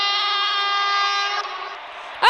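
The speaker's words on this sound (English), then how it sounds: "There's a speedy train." A speedy train passes through an Indian railway station, its long sustained horn blaring loud and steady before cutting off, followed by a short rising squeal or shout at the very end.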